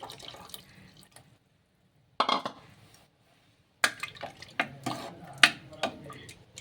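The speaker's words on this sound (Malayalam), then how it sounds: "നമ്മൾ ഇനി ഇതാ മോരൊഴിക്കാൻ പോവാട്ടോ." Buttermilk is poured into a home-cooked moru curry with ground coconut. Short splashy liquid bursts are separated by quiet pauses, followed by scattered clinks and stirring knocks from the pot.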